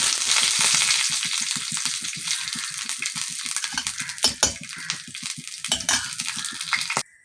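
Curry leaves fry in hot oil for a spicy tomato and onion chutney, giving a dense, close sizzle with sharp crackles and pops that fade toward the end, when it cuts off abruptly.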